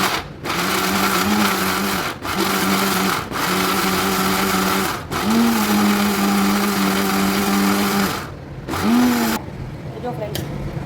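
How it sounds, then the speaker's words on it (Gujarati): A mixer grinder blends gravy for cheese angoori, its motor whirring loudly and close in several steady bursts separated by short pauses, then stopping. "આપણે મિક્સરને ઊંધું ફેરવવાનું છે."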